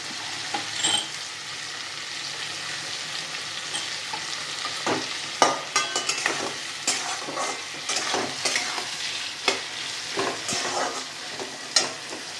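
Vegetable fried rice with salt and raisins being stirred in a pan, a steady frying sizzle broken by frequent sharp scrapes and clacks of the utensil against the pan, close and fairly loud throughout.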